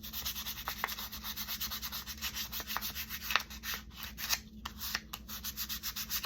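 Sandpaper drawn lightly across a playing card produces a close, dry rubbing rasp in steady back-and-forth strokes, soft and continuous, with no voices.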